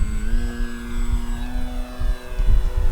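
An Arrows RC Husky Ultimate 4S electric model plane flies nearby in wind, its motor holding a steady whining drone with slowly shifting pitch over gusty low rumble.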